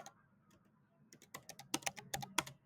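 Typing on a computer keyboard to enter a prompt, quiet close clicks that start sparse and pick up into a quicker run of keystrokes, with no talk.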